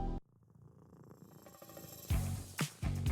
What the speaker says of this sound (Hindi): ये देखिए दोस्तों, ये है हमारी प्यारी सी बिल्ली।